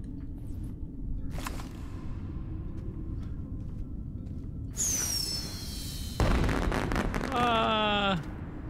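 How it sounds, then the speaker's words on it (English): Fireworks go off inside a cave in the video game Astroneer: a sharp launch whoosh, then whistling, crackling bursts over a low ambient rumble. "let's fire off the fireworks in the cave because that sounds fun"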